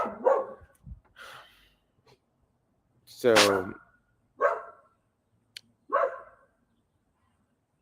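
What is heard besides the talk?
dog barking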